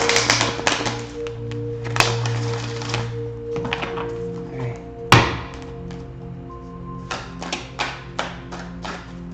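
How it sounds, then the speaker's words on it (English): A deck of Abraham Hicks cards is shuffled with rapid riffling and tapping bursts, a sharp knock midway, then more quick flicks and taps, close and alone over a faint steady hum. "One more shuffle for the Aries out there that enjoys hearing it."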